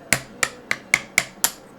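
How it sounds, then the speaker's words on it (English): A small brass hammer taps a punch to drive a pin out of an SKS rifle: six sharp metallic knocks at an even, quick pace, close and clear in a quiet room. "Use our little brass hammer."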